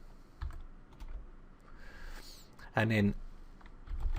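Keys clatter on a computer keyboard while someone types at a command prompt, in short bursts of close clicks with a heavier cluster near the end, as someone speaks briefly over it.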